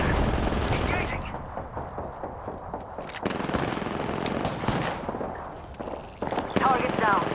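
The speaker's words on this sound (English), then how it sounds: "Being aimed at. Taking fire. Engaging." Gunfire in the battle royale game Apex Legends crackles in rapid bursts and scattered shots throughout, mixing with game noise and footsteps while players talk over the action.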